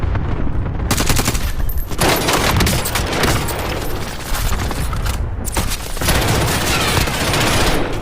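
Dense, loud automatic gunfire in Call of Duty Warzone rattles almost without pause for several seconds, with near bursts overlapping heavy reports and a brief dip in the middle.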